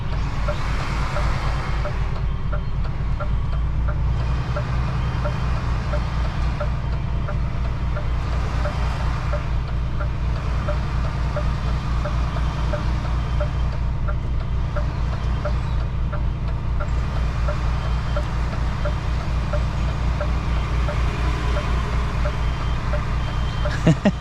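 A vehicle backs up for a long stretch in reverse, its reversing alarm beeping steadily over a constant low engine rumble, with no talk.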